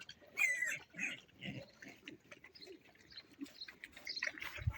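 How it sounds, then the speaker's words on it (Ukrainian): Pigs grunting and oinking close by in short irregular bursts, with a few squeals and bird chirps in the background. "щоб не косити, то випустимо свиней"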